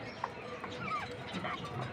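Native hens kept in a cage give soft, scattered clucks and short calls at moderate distance over a steady farmyard background.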